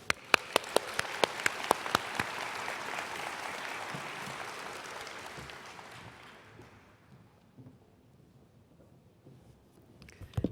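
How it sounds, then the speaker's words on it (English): Audience applause at a spring nursing pinning ceremony for the new graduates, opening with a few sharp nearby claps, then a broad patter that fades out by about seven seconds before a couple of late claps. "Now let's give a round of applause to all of our graduates."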